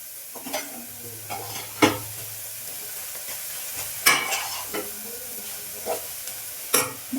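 Cabbage stir-frying in a pan, with a steady low sizzle broken by repeated scraping stir strokes every second or so, close and moderately loud, with no voices.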